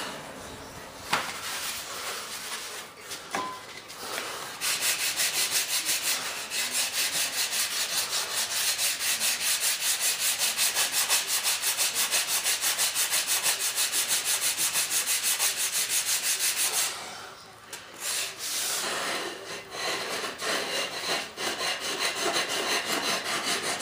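A hand saw cuts through angled plywood at the center of a large F-18 turbine jet model, rapid back-and-forth strokes running steadily for about twelve seconds, close and fairly loud, with short scraping before and after.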